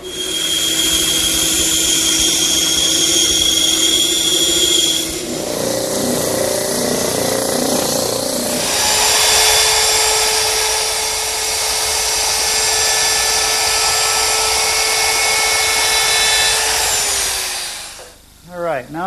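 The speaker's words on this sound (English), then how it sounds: "I'll cut them on the bandsaw, drum sand them smooth, and route them with a chamfer." Woodshop power tools working small wooden bracket pieces for a coffee table: a loud bandsaw cut, then a drum sander, then a high-pitched router chamfering the edges, each a steady whine in sequence, ending abruptly.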